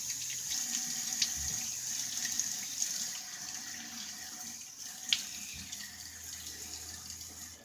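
A sink tap runs steadily while someone splashes water onto their face before a shave, with a constant hiss of flowing water and occasional soft splashes and clinks, fairly quiet and close, with no talking.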